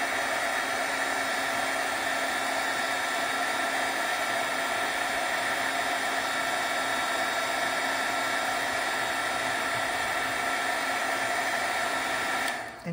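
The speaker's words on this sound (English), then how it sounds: "A heat gun is really super hot." A hot-air heat gun melting embossing powder on DIY autumn leaf journal decorations, a loud steady whooshing blower hum held close and unbroken for over twelve seconds before cutting off.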